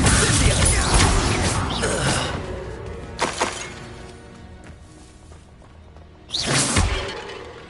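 Expulsor spell blasts in the video game Hogwarts Legacy: a loud crashing burst with shattering debris at the start, a short sharp impact in the middle, and another forceful whooshing blast near the end.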